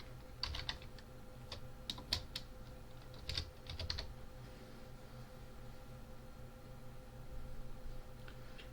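Keys clacking on a computer keyboard as someone types into a GIS mapping program, short bursts of presses with pauses between them, close and fairly quiet over a low steady hum, with no talking.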